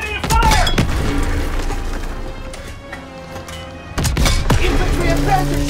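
A tank cannon in a WWII-era 1944 combat video game fires with heavy booming blasts, one near the start and another later, amid rumbling battle noise and shouted voices.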